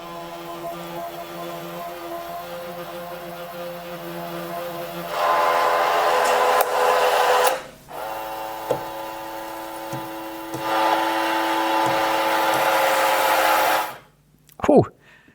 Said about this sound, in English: we've got a 60 RPM motor